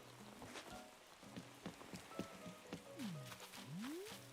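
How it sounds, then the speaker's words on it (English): Steady rain patter with scattered drops and splashes in Animal Crossing, plus a few swooping tonal sweeps near the end, fairly close and continuous. "Oh, it's raining, it's pouring"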